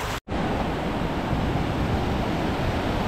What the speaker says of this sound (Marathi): पावसाचा आवाज खरंच मन गमावून घेतोय.